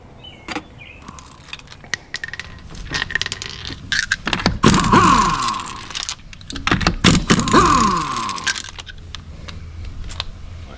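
Metal clanks and jangles as a wheel is removed from a motorcycle trailer, with scraping, clinking parts and two louder bursts of rattling handling. Close by, irregular, with no voices.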